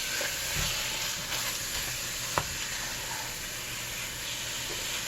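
Ground turkey sizzles steadily in a hot pan, a continuous close frying hiss with occasional faint stirring scrapes and one brief sharp tap midway.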